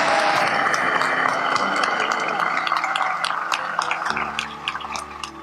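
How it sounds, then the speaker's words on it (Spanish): An audience applauds, dense clapping that is loud at first and gradually thins and fades over several seconds, with faint music tones coming in underneath near the end. "Un aplauso para todas ustedes que deberían estar aquí también"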